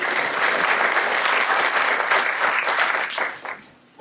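An audience claps steadily at a business pitch event, a dense, close burst of applause that holds for a few seconds before thinning out and fading.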